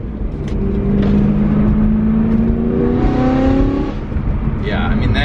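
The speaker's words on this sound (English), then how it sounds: "Car's not fully warmed up, so I can't give it the full." A BMW E92 335 or M3 accelerates while driving, its engine note rising steadily for a few seconds before easing off, loud and close from inside the car.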